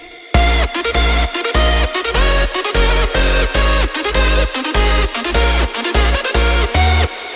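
Full hardstyle track built from three layered chords, two leads and one bass, pumping in a steady four-on-the-floor rhythm with a heavy kick gating everything, loud and dense with no talk.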